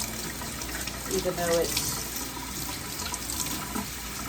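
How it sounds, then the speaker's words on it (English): Tap water runs into a sink while a fresh, home-grown rosemary sprig is rinsed, a steady wash of flow held at moderate level beneath a voice talking. "I've got a fresh sprig of rosemary that we grew ourselves. I'm going to wash it off,"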